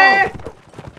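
Horse in the medieval combat game Mount & Blade: Warband multiplayer, a short whinny-like call followed by light hoof thuds, close and fairly loud, lasting about a second.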